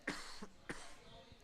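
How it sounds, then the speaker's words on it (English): A sick commentator coughs twice during a StarCraft Zerg-versus-Zerg match broadcast, two short close coughs separated by a brief pause. "pardon all my coughing"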